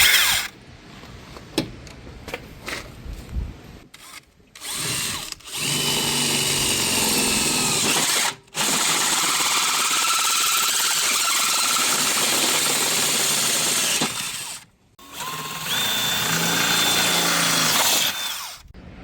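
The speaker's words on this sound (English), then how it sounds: "I'm going to drill this out right here. So this will go through the frame" A power drill whines steadily in long runs, grinding through a camper's metal frame close by, with brief pauses and a few short starts before the main drilling.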